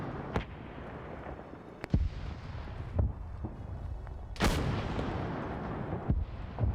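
Anti-tank gun shots ranging on two tanks in a World War II German PaK defense video game, heard as several sharp booming reports spaced a second or two apart over a continuous rumbling battlefield din, some near and some distant.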